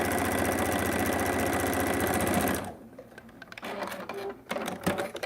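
A sewing machine runs steadily with a fast mechanical chatter for a few seconds, then stops, leaving quiet handling noises.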